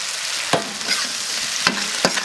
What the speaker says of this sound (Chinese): 把这个 排骨给下锅，